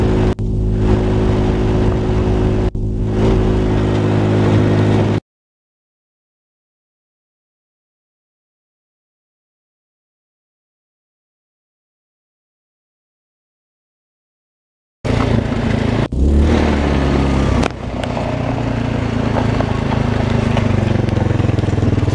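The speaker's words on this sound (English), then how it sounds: "Fucking clutch is slipping." An ATV buggy engine with a slipping clutch drones and revs loudly at close range. The sound comes in two stretches split by a long silence, with uneven surges in the second stretch.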